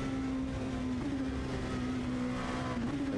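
On-board engine sound of a race car in the Le Mans 24 Hours virtual racing game, a steady droning engine note held at constant revs, moderately loud with no talking.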